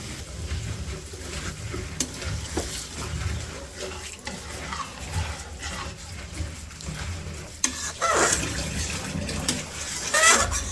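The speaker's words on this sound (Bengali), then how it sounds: "তো মাংসটা এখন হচ্ছে ঝোল দিয়ে দিই। ঝোল দিয়ে দিই মাংসতে।" Meat curry in a pot, sizzling and stirred with a utensil after broth is poured in, with scraping and bubbling sounds that rise in bursts, close and steady without talk.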